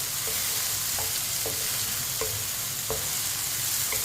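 Tomatoes and onions fry in a pan with a steady sizzle while a spoon scrapes and stirs in regular strokes, each stroke a short clack against the metal, with no talk.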